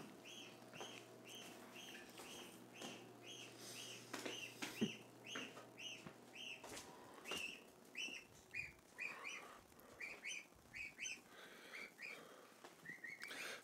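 A young gosling chirps repeatedly in quick high peeps, faint at first and then busier and closer, with soft handling noises and thumps over a low steady hum.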